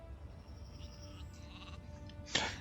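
A sheep on a farm in the video game Gothic 2 gives a single loud bleat near the end, rising over a quiet, steady game ambience.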